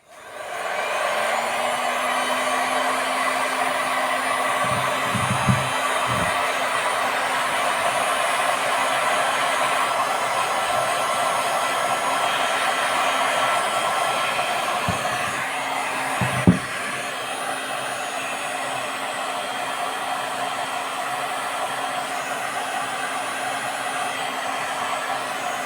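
A heat gun blowing steadily on a Saito FA-300T model engine, a loud continuous whooshing hum close by, interrupted briefly by a couple of small clicks or knocks.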